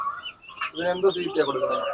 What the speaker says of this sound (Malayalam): നമ്മൾ ഈ ഒരു ബി വി ത്രീ കോഴികളെ എടുത്തേക്കുന്നത്